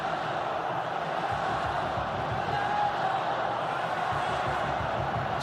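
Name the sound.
stadium crowd cheering at football match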